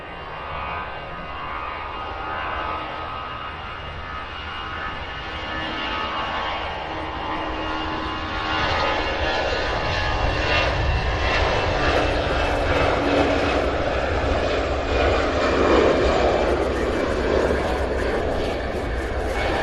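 Allegiant Air airliner jet engines roar steadily at CVG airport in Cincinnati, a broad, loud rush that swells gradually over roughly twenty seconds with no voices over it.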